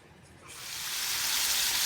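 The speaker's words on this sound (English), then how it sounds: "I have the wingettes cooking." Chicken wingettes fry under a lid in a covered pan, a steady broadband sizzle swelling from quiet to loud and holding there, with no talking over it.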